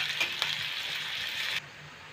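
Onions and green chillies frying in a pan while being stirred, a steady faint hiss and sizzle with a couple of light scraping clicks, cutting off abruptly near the end.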